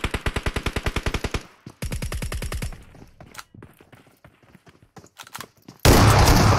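Rapid bursts of shotgun-like gunfire in a first-person shooter, loud, evenly spaced shots in two quick strings, then scattered single pops and faint footsteps, ending in a harsh blast of noise.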